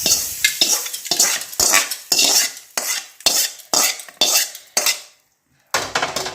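Cluster beans sautéed in a pan, a rhythmic series of about a dozen sharp metal spatula scrapes and clanks against the cookware, close and loud, with a brief pause near the end.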